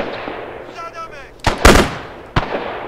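Gunfire in the video game ArmA 3, Faces of War mod, Japan versus the US: two sharp, loud shots a second apart cut through a low hum and a brief tonal sound, with the first shot trailing into a noisy burst.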